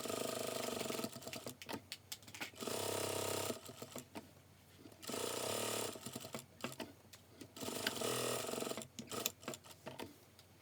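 A sewing machine stitches a Kazakh patchwork quilt block in four bursts of rapid, even whirring, separated by short quiet pauses. The sound is close but fairly quiet.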